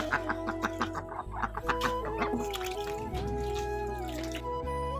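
Village ducks crowding in to eat as feed is given, with steady quacking and clucking calls close by, layered in a continuous busy babble over a low background hum.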